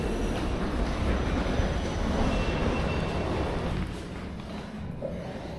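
A passenger train runs along the rail line with a steady, loud rumble of wheels and motors that holds constant, then eases slightly near the end, with no talk.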